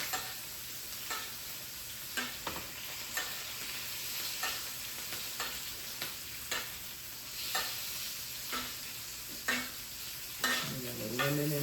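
Pompano fillet pan-searing in butter with garlic and lemon, a steady soft sizzle broken by regular scraping taps of a utensil basting and stirring in the pan, close and without talk.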